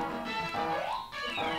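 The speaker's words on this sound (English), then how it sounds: "Meow." Cat meowing in the Home Alone 2 video game, a short synthesized meow with rising and falling pitch over looping game music and sound effects, brief and fairly loud.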